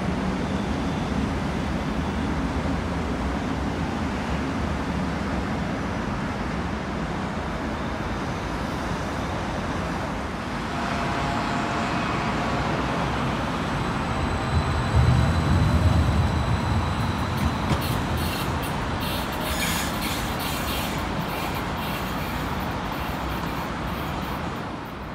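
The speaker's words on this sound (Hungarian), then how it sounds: "itt az U6-os metró magas vasútként közlekedik" Vienna's U6 metro train rolls along an elevated viaduct, a long steady rail rumble with wheel noise swelling midway and brief higher squeals and clatter toward the end, heard from on board.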